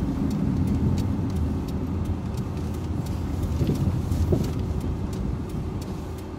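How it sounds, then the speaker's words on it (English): Car engine and road noise from inside a vehicle pulling over onto the roadside, a steady broadband rumble with rain or wind texture, fairly loud and continuous with no talk. "that was my husband pulled over on the side of the road"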